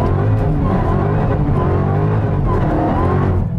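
A Dodge Charger Hellcat Redeye, built from a V6 rental car, rolls gently into the throttle in first gear, its engine giving a loud, steady, close low rumble that rises slightly with a faint tire-noise edge.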